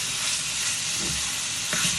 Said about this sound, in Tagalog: Kumukulog na itong beef natin, no? Maluluto siya.